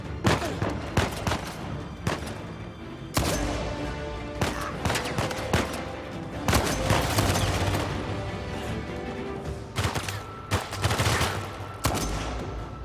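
Gunfire in Uncharted 4, with repeated bursts and single shots fired close and loud, dense and echoing across the whole stretch, with no talk over it.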